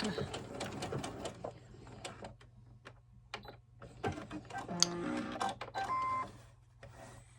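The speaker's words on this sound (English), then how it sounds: "I'm going to just sew over here just a little bit." A home sewing machine stitches an 18-inch doll dress in short runs of rapid mechanical whirring. The bursts start and stop, with brief pauses, clicks and handling noises between them, all close and fairly quiet.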